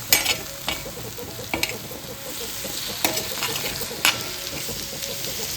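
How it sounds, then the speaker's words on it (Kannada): Udarbyali palya ingredients stirred in oil in a pan, a steady sizzle of frying punctuated by sharp periodic scrapes and clinks of a spatula against the pan, close and fairly quiet. "ಸೊ ಎಲ್ಲ ಇಂಗ್ರೀಡಿಯೆಂಟ್ಸ್ ಹಾಕಿ ಈ ರೀತಿ ಮಿಕ್ಸ್ ಮಾಡಿರಲ್ಲ"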